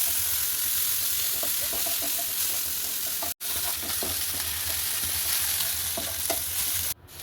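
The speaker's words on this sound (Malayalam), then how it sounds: "കുറച്ച് ചുവന്നുള്ളി പിന്നെ വെളുത്തുള്ളിയും കൂടിയിട്ട് ചതച്ചങ്ങോട്ട് ചേർത്തിട്ടാ. എന്നിട്ട് വേറെ ഒന്നുമില്ല, നല്ല പോലെ അതങ്ങോട്ട് വഴറ്റി ഇവിടെ എടുക്കാം." Crushed shallots and garlic sauté in hot oil in a pan, a constant close sizzle with soft, irregular stirring scrapes and clicks running throughout.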